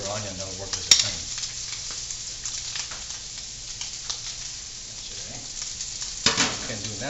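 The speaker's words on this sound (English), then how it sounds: "That sausage is almost ready. We got the onion cooking." Red onion and sausage sizzle in a pan with a soft, continuous frying crackle, punctuated by a couple of sharp clinks from utensils against the pan.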